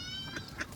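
Ducks or other water birds being fed at Lake Balboa Park give short, brief calls over a steady low outdoor background, with faint harmonic tones.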